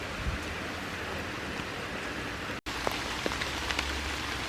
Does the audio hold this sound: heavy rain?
yes